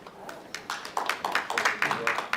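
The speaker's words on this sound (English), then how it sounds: "One more round of applause." At a policy panel event in Washington, D.C., an audience gives a round of applause: scattered individual claps that quickly thicken into a brisk, moderately close patter.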